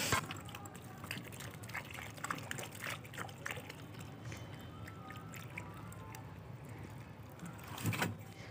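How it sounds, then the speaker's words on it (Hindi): Water is poured into a dry cement and sand mix while furnace lining material is being made, producing a faint, uneven trickle and splash with soft knocks. "अभी इसमें पानी डालते हैं।"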